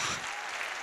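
A church congregation applauds in a brief, dense burst of clapping that holds steady at moderate loudness.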